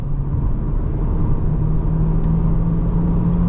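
A 2026 VW Taos with 174 horsepower launches at full throttle, its engine a loud, steady rumbling roar that holds close and constant without a break.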